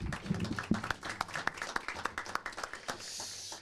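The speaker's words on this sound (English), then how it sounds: "one more round of applause for our fire department" A round of applause for the fire department at a city council meeting, a crowd clapping in quick irregular claps that thin out toward the end, moderately faint in the room.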